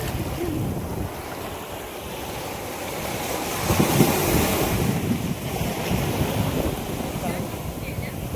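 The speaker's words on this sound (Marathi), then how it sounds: "लाट आली मोठी." Surf roars against Khavane Beach with heavy wind buffeting the microphone, a large wave surging and breaking midway, and a voice faintly heard beneath.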